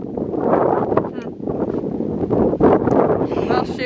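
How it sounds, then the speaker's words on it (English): Wind at an outdoor rifle shooting range buffets the microphone in a steady, loud rumble, with a few brief higher sounds breaking through. "It's also pretty windy"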